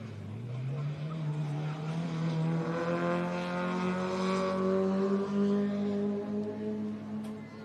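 A race car approaches on a desert off-road race course, its engine note climbing steadily in pitch and loudness as it draws nearer, a sustained rising drone lasting several seconds.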